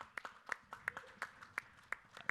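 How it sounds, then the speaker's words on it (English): A small conference audience in Dubai claps briefly, a thin scattering of sharp, fairly quiet hand claps in an uneven rhythm. "let's do a round of applause for each other and for AIBC"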